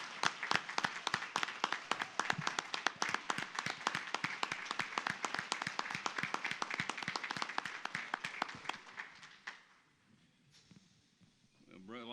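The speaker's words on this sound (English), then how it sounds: "we need to give her a round of applause" Steady rhythmic clapping from an audience at an officers' installation ceremony, distinct claps continuing for about nine seconds before dying away into near quiet, with a voice beginning at the end.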